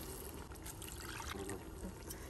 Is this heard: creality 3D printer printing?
no